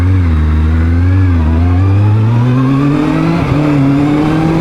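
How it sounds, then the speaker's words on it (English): A Kawasaki Z1000 motorcycle engine revs steadily on a test ride, its loud, close drone climbing gradually in pitch under constant throttle with no pauses. "That really is an absolute stonker of a motor."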